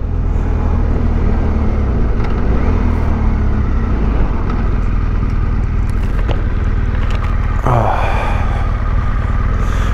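Motorcycles pass along a road, a loud, steady roar of engines and wind heard close up from a riding motorcycle, with brief vehicle swells and a voice talking over the noise.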